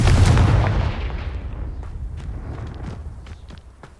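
A Confringo fire spell blast in Hogwarts Legacy lands with a heavy, booming impact, then decays into rumbling debris with scattered sharp cracks and pops over about four seconds.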